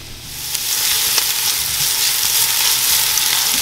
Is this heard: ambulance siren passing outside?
no